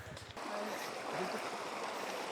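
River water rushing and churning around a motorcycle as an NMAX scooter crosses a river at Mt. Lawad Adventure Park, a steady broad wash of flowing water after a brief opening thump.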